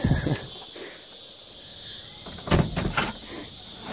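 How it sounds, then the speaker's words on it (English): A door being opened in a home garage or workshop during a car clutch repair, with sharp knocks and creaks in a few short bursts near the start and again later, over a quiet background of faint high insect-like hiss. "I'll just leave the door open."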